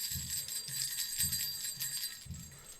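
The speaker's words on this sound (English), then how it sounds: "I am ringing bells" Bright bells ring steadily in high, shimmering tones over a regular low thumping beat, continuous and fairly loud.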